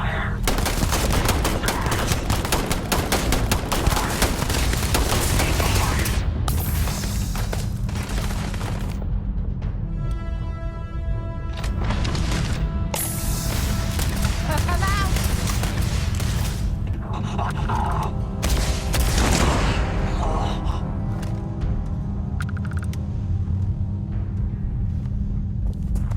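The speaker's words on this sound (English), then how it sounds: "Opening fire!" Sustained gunfire in the video game Starfield, heavy bursts of rapid shots and booms layered over a low rumble, loud and near, with brief pauses and ringing tones between volleys.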